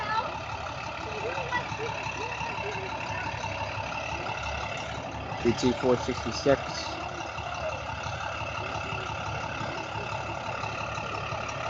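A city bus idles steadily close by for several seconds, a low continuous engine rumble with a few brief louder clanks midway, while people talk over it.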